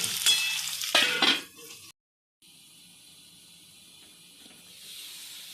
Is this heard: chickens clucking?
no